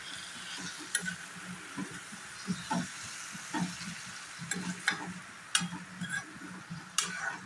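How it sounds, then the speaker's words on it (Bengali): Small fish being stirred in a frying pan for a Bengali bhuna dish, with a steady soft sizzle under scattered scraping and clinking strokes of the spoon, close and moderately quiet. "এবার আমি অল্পভাবে মাছটাকে এভাবে একটু নেড়ে ছেড়ে দেবো"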